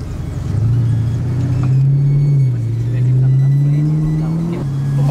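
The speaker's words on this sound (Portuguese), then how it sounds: "tô ouvindo um barulho de carro, acho que ele tá vindo" A car, likely an Uber, approaches on a stormy, rainy street with a low rumbling engine hum that rises and shifts in pitch as it draws nearer, with voices nearby.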